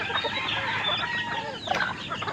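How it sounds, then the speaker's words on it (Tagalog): A Brahma chicken with feathered feet clucks in a few short bursts close by, over a busy farmyard background of other birds. "Ito naman yung Brahma na puro balahibo ang paa niya."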